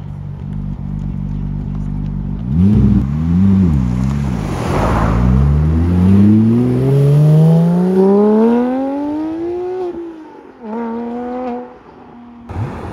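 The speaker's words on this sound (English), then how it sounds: "I don't know if you can hear me with all the cars coming past" Loud car engines rev and roar past one after another at a supercar meet in Cape Town, including a Ferrari 355, pitch rising and falling as they approach and pull away, with a steady crowd hum underneath.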